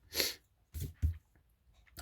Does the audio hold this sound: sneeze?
yes